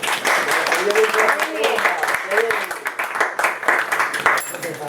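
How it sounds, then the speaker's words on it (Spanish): A class of students applauds a classmate, a dense patter of many hands clapping in a room that runs throughout, with voices talking over and among the claps. "Un aplauso para Edward."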